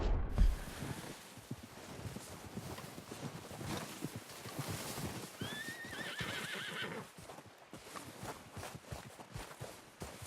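A horse in the video game Red Dead Redemption 2 gives a clear whinny midway through, over steady clip-clop hooves and soft outdoor ambience.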